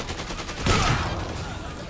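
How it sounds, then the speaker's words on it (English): Gunfire from a firearm in the video game Dead Rising 2, a short loud burst of shots about a third of the way in, with rumbling game action continuing underneath. "Oh, he's using a gun?"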